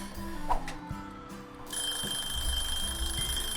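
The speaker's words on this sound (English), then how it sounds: "And that's my timer." A kitchen timer alarm rings steadily and fairly loud in a home kitchen, a continuous high electronic beeping tone that starts partway through after some clatter and keeps going to the end.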